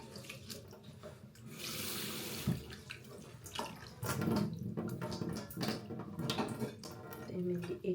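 Rice being rinsed in water at a kitchen sink, with running tap water, swishing and splashing, and a voice speaking over it.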